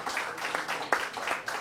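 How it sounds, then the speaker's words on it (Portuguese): A live audience applauds for John Lennon, a steady mass of clapping hands with a few louder claps standing out, no voices heard. "um grande aplauso para John Lennon, por favor"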